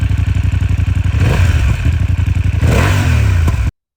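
BMW F900 GS twin-cylinder motorcycle engine running with a steady throbbing pulse, loud and close, rising in revs partway through before cutting off abruptly.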